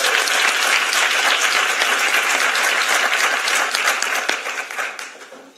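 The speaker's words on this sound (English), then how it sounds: "let's give one more big round of applause to all our panelists." A conference audience at an early education innovation challenge gives the panelists a loud, sustained round of applause, dense clapping throughout that starts to fade in the last second.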